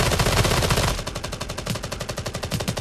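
Rapid automatic gunfire in the video game Raider Six, a loud dense burst followed by a steady rhythmic string of shots, close and alone with no talk.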